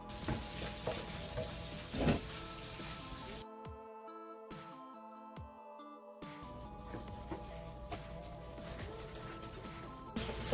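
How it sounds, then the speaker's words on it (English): Bacon fries in a pan in a home kitchen while biscuits and gravy are made, giving a steady crackling sizzle. The sizzle drops away for a few seconds midway as tonal background music continues, then resumes. "Fry bacon."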